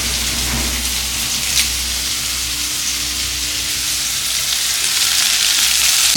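Curry leaves sizzle and crackle in hot oil while mutton pepper fry cooks, a steady close frying hiss that holds for several seconds with no talk.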